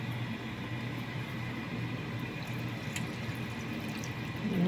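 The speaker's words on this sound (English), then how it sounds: "I'm just going to add some more water." Water pours steadily into a pot of simmering vegetable broth, a continuous close splashing hiss with a few drip-like accents, swelling slightly toward the end.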